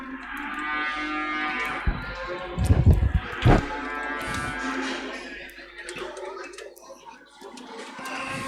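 Cattle, Angus bullocks among them, moo at a livestock mart in Tipperary Town, a couple of low drawn-out calls standing out over steady hall murmur and clatter.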